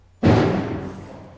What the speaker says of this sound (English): a significant enough thud to it